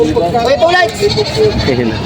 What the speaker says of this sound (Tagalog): May binibenta sila boss na inahing kambing na Anglo-Nubian.